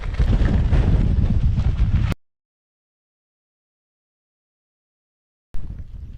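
Strong wind buffets a microphone outdoors at a campsite in the Lake District, a loud steady roar for about two seconds before the sound cuts to silence, then a fainter burst of gusting returns near the end.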